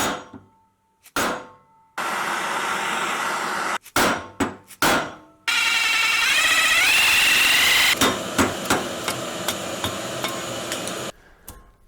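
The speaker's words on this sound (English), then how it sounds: "is to remove this bushing right here, which we need to hammer out" Metal hammer blows driving a bushing out of a Mercruiser steering assembly, with clusters of sharp clanging strikes, some rapid bursts and some spaced hits, loud and close, with metallic ringing between impacts.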